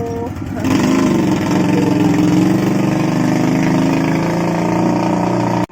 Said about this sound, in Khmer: មានម៉ូតូ